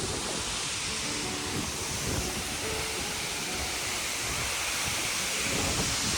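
Heavy, steady roar of rushing water and drifting spray at a tall waterfall in eastern Nepal, a dense broadband wash that stays loud and unbroken throughout, with no voices over it.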